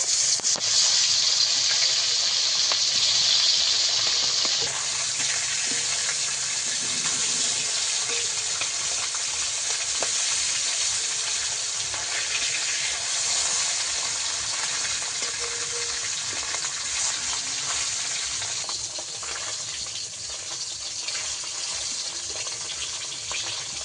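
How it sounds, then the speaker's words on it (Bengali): Continuous loud sizzling of pomfret frying in hot oil, steady and close throughout with no talking, easing slightly toward the end. "বাকি মাছগুলো ভেজে নেব"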